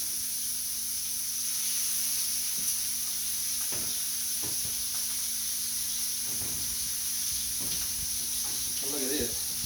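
Venison backstrap sears in butter and oil in a cast iron pan with a constant close hiss and sizzle, broken by occasional scrapes and bubbling pops, while a person talks intermittently over it.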